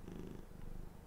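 A pet cat named Dylan purrs softly and steadily up close, a low continuous rumble with no other sounds.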